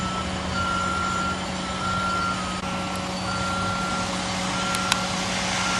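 A truck's reversal alarm beeps in a steady, evenly spaced rhythm while a wall panel is lifted off the truck at a commercial construction site, all over a constant low engine drone.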